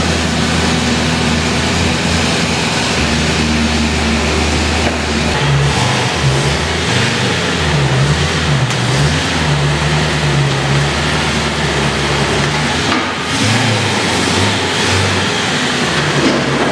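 Loud engine of an E30 BMW M3 fitted with a Drenth sequential gearbox pulls away, a steady close drone with rising and falling revs throughout and no talk.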